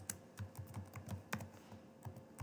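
Typing on a computer keyboard: quick, irregular clicks and taps of keys, close and fairly quiet, with no voices.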